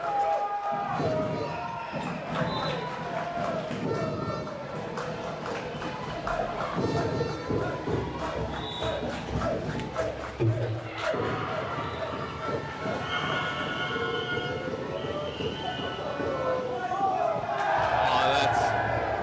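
A large crowd fills the hall at an under-18 boys' basketball final between Newcastle Staffs and Richmond, a dense steady roar with shouting voices mixed in, holding throughout and swelling slightly near the end.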